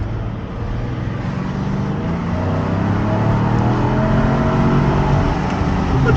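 The EcoBoost engine of a Lincoln Navigator Black Label accelerates with a steady, rising rumble and road noise, heard from inside the cabin, loud and continuous with no talking.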